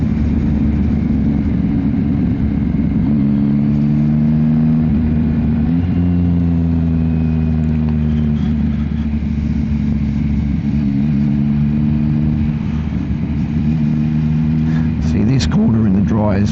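A Yamaha XSR900 motorcycle with a Kelpie exhaust is ridden on a road, its engine a loud, steady low drone with rising and falling tones as it revs, under wind rush and some talk.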